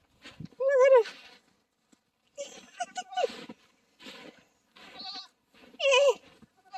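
A very young goat out in the snow gives two loud, close, wavering bleats at the start and near the end, with a person talking softly in between.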